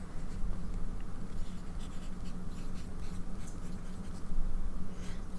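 A medium-nib fountain pen filled with Sheening-series ink scratches steadily across paper, close and continuous, with soft rhythmic strokes and a slightly louder burst near the end.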